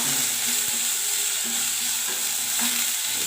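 Onions sizzle steadily in a hot pan, with a soft continuous frying hiss and a few faint stirring knocks.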